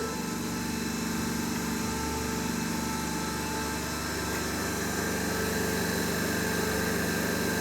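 A three-phase alternator test rig runs at a steady speed of about 1500 RPM, giving a continuous loud mechanical hum with a constant engine-like drone and no pauses or speech.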